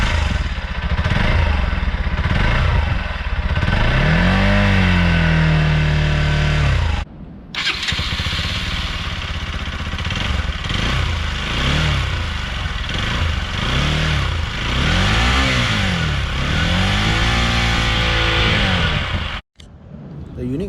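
A Bajaj Pulsar NS200 with a stock exhaust runs close by, revving repeatedly in rising and falling sweeps over a steady idle, with a brief cut partway through and a voice faintly present.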